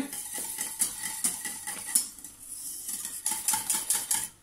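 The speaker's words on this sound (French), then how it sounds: "je vais fouetter comme ça pendant environ 1 minute" A whisk beats pastry cream in a metal pot on the stove, making quick rhythmic metallic scraping and clicking against the sides, close and steady throughout.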